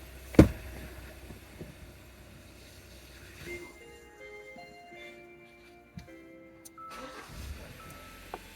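A 2014 Hyundai Santa Fe, just repaired after a long-crank camshaft sensor fault, starts right up: a brief thump and crank followed by a steady, quiet idle with a few ticks and clicks nearby.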